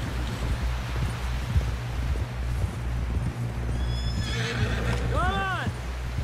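In Red Dead Redemption 2, a horse gives a loud, descending whinny near the end over steady hoof clip-clops and outdoor ambience, with people talking in the background.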